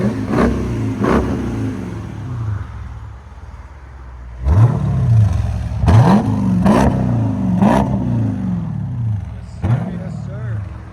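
A Dodge Durango R/T 5.7L HEMI V8 with aftermarket exhaust revs hard several times with a deep, throaty note, each blip rising and falling, close and loud, with a voice speaking between revs.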